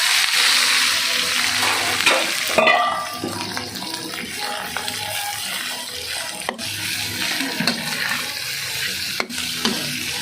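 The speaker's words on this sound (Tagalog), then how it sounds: "Yan, sasangag tayo guys." Rice frying in a generous amount of cooking oil for Filipino garlic fried rice, a steady broad sizzle with scraping and stirring clatter, close and fairly loud throughout.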